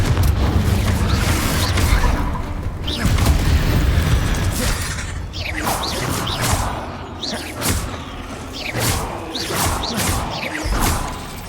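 A Confringo blasting spell in Hogwarts Legacy sets off a string of booming explosions with whooshes and thuds. The blasts come in repeated loud bursts over a continuous roar of rumbling combat.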